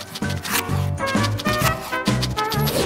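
A knife saws through a freshly baked homemade loaf in repeated rough strokes, each a crunchy scraping burst with short pauses between, close and fairly loud.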